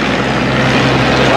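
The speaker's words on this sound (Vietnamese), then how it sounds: "ghe biển nhỏ xíu mà đông dữ vậy trời" An engine drones loudly and steadily from a small crowded sea boat from Kiên Giang moving on a swift river, with wind and water rushing close by and people talking over it.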